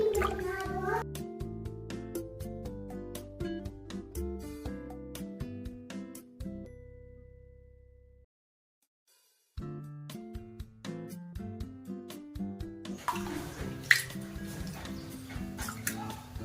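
Lentils (dal) are swished and rinsed in water by hand, with irregular splashing, sloshing and dripping sounds, a short quiet gap, then more washing at close range.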